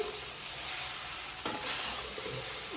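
A tempering for dhokla sizzles in a hot pan, a steady close frying hiss with a sharp burst partway through as it is poured or stirred, no voices.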